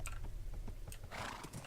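A horse in a video game makes soft clopping hoof sounds and faint snorts over a low steady hum, with a brief breathy whinny-like burst near the end.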